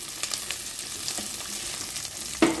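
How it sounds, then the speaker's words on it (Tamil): Onion, ginger and garlic sautéing in a pan for an egg curry, with a soft continuous sizzle, light stirring scrapes and one sharper clatter near the end. "அது கூடயே இந்த வெங்காயம் இஞ்சி பூண்டு எல்லாத்தையும் போட்டு வதக்கலாம்."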